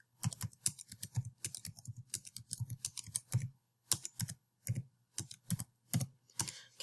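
Keys clicking on a computer keyboard as numbers are entered, in short bursts of quick taps broken by pauses, close and fairly quiet, with no voices.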